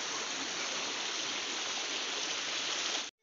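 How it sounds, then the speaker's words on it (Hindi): Broad, constant rush of a mountain river and spring water flowing in an Uttarakhand jungle, a dense even roar held at steady loudness throughout, then cut off abruptly at the end; no voices. "ये देखिए नदी भी सामने बहुत अच्छी बह रही थी"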